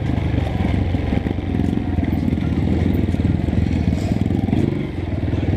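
A Honda CRF 230 trail motorcycle engine-braking down a dry dirt trail, its engine giving a steady, loud low drone with rattling clatter throughout, close and continuous without talk.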